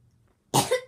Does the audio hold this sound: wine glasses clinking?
no